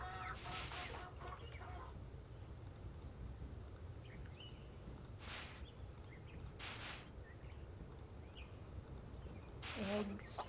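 Chicken clucking in the video game Secret of Shadow Ranch, a few brief clucks scattered over a steady outdoor ambience with insect-like hiss, no talking.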